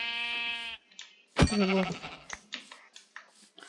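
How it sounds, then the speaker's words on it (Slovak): A black sheep in the Minecraft video game bleats twice: a steady, nasal baa, then a shorter wavering one after a brief pause, followed by faint scattered game clicks. "Čierna ovca."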